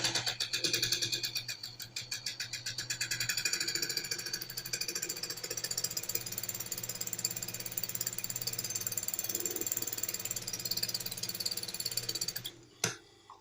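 A sewing machine runs a second line of stitching along the side of a double placket for a senator outfit, giving a steady, fast mechanical chatter that continues almost unbroken before stopping abruptly near the end.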